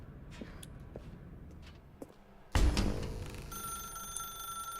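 A telephone rings in the video game The Stanley Parable: Ultra Deluxe, a loud ring that bursts in partway through after quiet ambience and keeps sounding.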